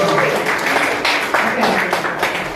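Brief applause from a lecture audience after a question, a short burst of clapping in a few pulses, moderately loud in a room, fading within a couple of seconds.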